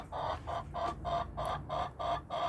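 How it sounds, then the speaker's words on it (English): A Barred Rock hen clucks in a steady run of about eight evenly spaced, fairly close clucks in a backyard coop, with no talking over it. "My barred rock's talking to me."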